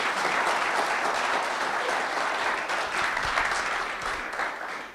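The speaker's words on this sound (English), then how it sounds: "everybody claps" Audience applause at a tech industry innovation showcase: dense, sustained clapping from a sizeable crowd, steady and loud throughout, with no talk over it.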